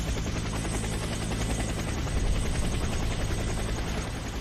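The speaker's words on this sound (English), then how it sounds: "Move out of the helicopter." A helicopter in a Warframe training mission on Xbox drones steadily with a continuous loud rotor and engine roar throughout, no voices over it.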